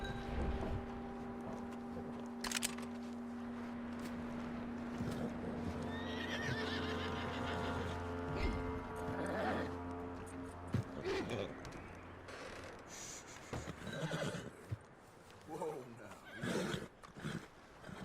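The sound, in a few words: horse neighing in video game Red Dead Redemption 2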